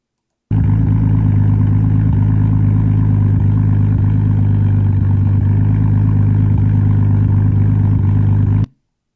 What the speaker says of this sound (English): Oh, sounds pretty good. I wonder what engine it has. An RB20 DET.